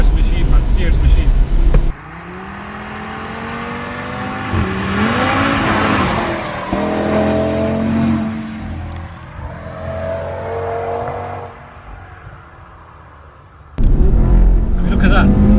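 An Audi RS3's engine revs up through several rising pulls, bouncing off the rev limiter, loud and close, with someone talking over it at the start and again at the end.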